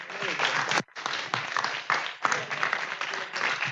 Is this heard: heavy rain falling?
no